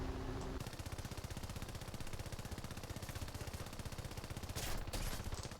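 Rapid bursts of gunfire hammer at the player's aircraft in the War Thunder flight game, a dense continuous rattle of shots over the steady drone of engines.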